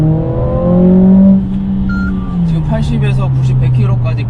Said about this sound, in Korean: 여기에서 쭉 밟아보면 지금 80에서 90, 100km까지 그냥 올라가거든요.